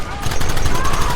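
Rapid gunfire from a Red Dead Redemption shootout crackles loudly and continuously, a dense volley of overlapping shots with no clear gaps, running the whole short moment.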